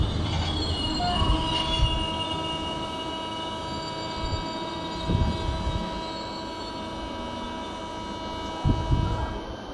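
A train pulls in within the Train Simulator Classic game, its rumbling wagons rolling steadily while the wheels squeal in a few louder swells and a high tonal whine hangs over the scene.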